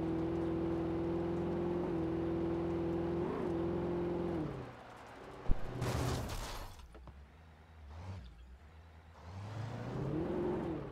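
A car in Alan Wake drones at a steady engine pitch, dips, then gives a sharp knock followed by scraping, rumbling bursts before the engine note rises again, moderately quiet, no talking.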